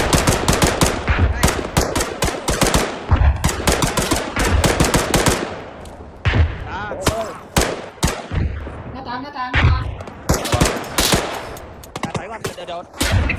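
Rapid bursts of machine gun fire and scattered gunshots in the military shooter ArmA III rattle almost continuously, loud and close, with brief pauses while players talk over the shooting.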